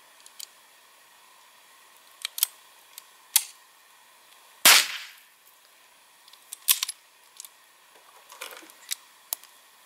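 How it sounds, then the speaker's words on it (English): A blank cartridge with a paraffin wax wad and one grain of Trail Boss powder fired from a water-filled bore, a single sharp crack standing out among faint clicks and handling taps in a quiet setting. "The bullet was shot out of the barrel."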